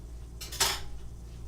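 A metal utensil scrapes the skin off the top of a tuna casserole in a dish, one short, sharp scraping stroke, close and fairly quiet against a low background hum.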